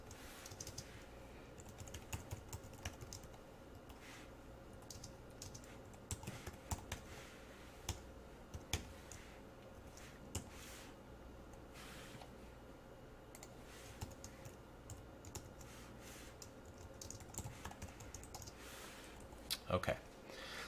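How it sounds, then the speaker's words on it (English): Someone types code on a computer keyboard, steady clusters of light close key clicks with brief pauses, and no one speaks over it. "as I'm typing this, try to figure out what's going on here"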